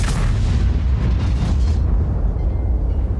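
A Waffentraeger tank destroyer's gun fires a high-explosive shell in World of Tanks: a loud, heavy boom that rolls into a long, fading rumble and stays dense across the low end.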